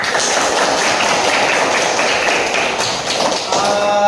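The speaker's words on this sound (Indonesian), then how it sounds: "tepuk tangan semuanya" Students in a classroom clapping together, a dense, loud burst of many hands that holds steady and fades slightly near the end, close by.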